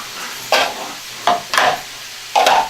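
Carrot and green onion for chow mein cooking in a pan, heard as four short bursts of scraping and sizzling as a spoon stirs them, with quiet gaps in between.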